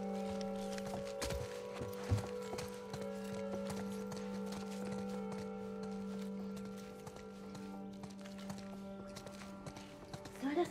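Horse hooves clip-clop at a steady walking pace in The Last of Us Part 1, moderately close and continuous, with a steady hum and occasional thuds under the hoofbeats.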